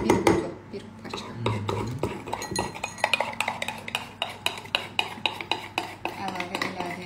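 A spoon stirs baking powder into a yogurt batter in a bowl, giving a steady run of light scraping taps against the dish. The taps are close but fairly quiet, with a murmur of background noise beneath them.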